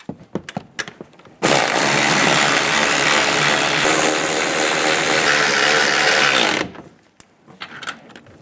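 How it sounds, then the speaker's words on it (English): A power tool spins nuts tight on the front axle of a 2007-2013 Chevrolet Silverado 1500 during a seal replacement, giving one loud, steady whirring run of about five seconds, framed by faint clicks and handling noises. "Now I'll put the other nuts on. And we can tighten these all down."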